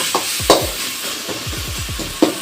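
Onion and tomato sautéing in a pan for a pasta dish, a steady hiss of frying under a spoon scraping and stirring, with a few sharper knocks against the pan, close and alone.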